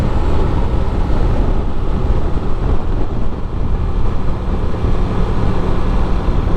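A 2024 Honda Transalp 750 adventure motorcycle, roughly 90 horsepower, under way, with a steady loud engine drone mixed with heavy wind rush across the whole stretch and no break in the noise.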